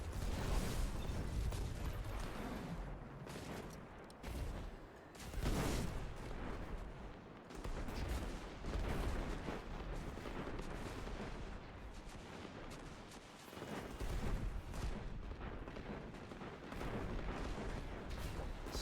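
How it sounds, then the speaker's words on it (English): Heavy barrage of in-game gunfire and explosions from the Destiny 2 shooter, dense and continuous with repeated loud blasts and booms layered over each other for the whole stretch, no voices. "So many explosions."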